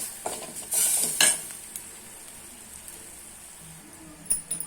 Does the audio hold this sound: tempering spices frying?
yes